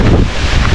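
Strong wind buffets the microphone in a loud, rough, continuous roar for a brief moment.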